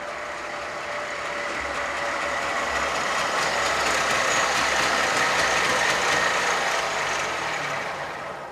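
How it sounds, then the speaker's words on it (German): A loud car engine, jokingly likened to a tank, approaches and rumbles steadily close by for several seconds, swelling and then easing slightly, with a faint high beeping tone on top and no talk. "Ah, Ben, ich hab dich schon von Weitem kommen gehört. Ja, ist bei dem Panzer auch keine große Kunst."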